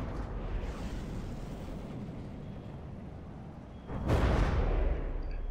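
Missiles explode in the naval combat game From The Depths, a continuous rumbling roar of distant blasts that swells into a louder burst near the end, with no talk.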